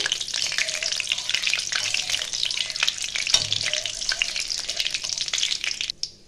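Whole spices, including black pepper, crackle and sizzle steadily in hot oil for chicken masala, with a few scrapes of stirring, before the frying noise drops away near the end.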